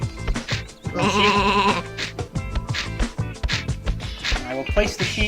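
Video-game sheep in Sheep, Dog 'n' Wolf bleats loudly as it is picked up, a wavering cry over game music, with someone talking throughout.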